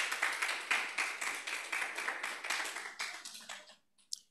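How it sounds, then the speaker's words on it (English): An evening audience clapping at a talk, a dense round of applause at close range that holds steady for several seconds before thinning out and stopping, with one last clap. "let's clap for ourselves once again for coming here tonight"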